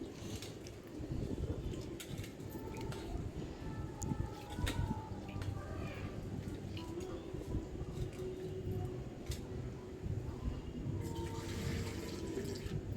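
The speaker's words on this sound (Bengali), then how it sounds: "চালটা ধুয়ে নিচ্ছি ভালো করে" Ration rice being washed by hand in water in a home kitchen, a quiet steady sloshing and splashing with faint background sounds.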